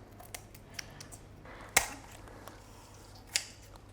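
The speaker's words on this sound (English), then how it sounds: "we're going to move just ever so slightly to the side of it, and we're going to start cutting" Sharp kitchen scissors snip through a raw chicken's backbone in a few crisp, separate cuts, with one louder crunching snap near the middle and another later, close and otherwise quiet.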